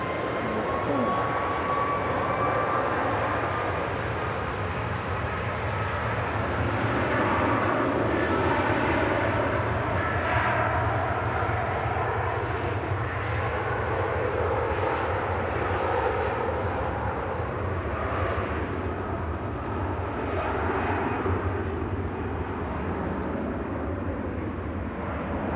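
A Lufthansa airliner departs Manchester Airport for Frankfurt, its engines giving a steady, moderately loud roar with a faint high whine throughout the whole stretch.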